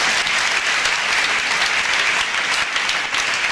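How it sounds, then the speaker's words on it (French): A church congregation applauds loudly and continuously, a dense sustained wash of many clapping hands with no break throughout. "Acclamons le Seigneur,"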